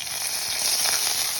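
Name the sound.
mustard seeds, cumin, curry leaves sizzling in hot oil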